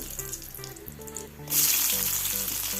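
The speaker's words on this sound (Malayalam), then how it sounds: "ഒരു ടേബിൾ സ്പൂൺ വെളിച്ചെണ്ണ ഒഴിച്ച് ഒരു ടീസ്പൂൺ കടുക് ഇട്ട് മൂന്ന് വറ്റൽമുളക് ഇട്ട്" Mustard seeds and dried red chillies hit hot coconut oil midway, setting off a loud, steady crackling sizzle that follows a quieter stretch of background kitchen noise and soft tones.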